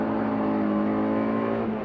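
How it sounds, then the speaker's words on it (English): A car lapping Thunderhill race track at fairly high speed holds steady throttle, its engine a loud, continuous, close droning roar with rich harmonics throughout. "You can stay in the throttle, just a quick downshift."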